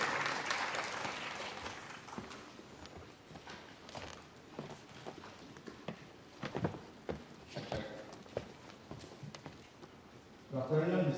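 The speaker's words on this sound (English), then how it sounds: "Let's give a round of applause for Calvin Theorens" Audience applause at a startup competition finale in Shenzhen, a broad wash of clapping opening loud and thinning to scattered claps, with a voice cutting in near the end.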